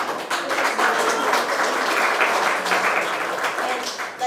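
Audience applause at a community club gathering, steady dense clapping sustained throughout at a fairly loud level, with some voices mixed in underneath.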